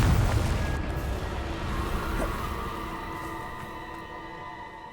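A Confringo spell blast in Hogwarts Legacy bursts with a loud low boom at the start, then a rumbling, crackling tail that slowly fades over several seconds, with faint tonal ringing layered over the decay.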